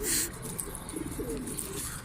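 Pigeons coo softly in a loft, low murmuring calls repeating close by amid faint rustling and a brief higher chirp.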